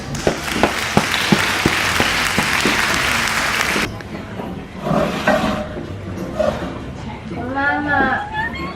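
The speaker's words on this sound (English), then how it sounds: "I'm gonna clap my hands." Hands clapping in a home kitchen while a five-year-old bakes brownies, a run of sharp separate claps close by for the first few seconds, then talking and a voice take over.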